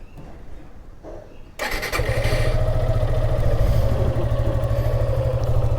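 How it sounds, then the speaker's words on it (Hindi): A Suzuki Gixxer SF motorcycle cold-starts after a second of quiet, then settles into a loud, steady, rhythmic idle close by, with no talk over it. "बाइक को कर लेते हैं एक बार कोल्ड स्टार्ट"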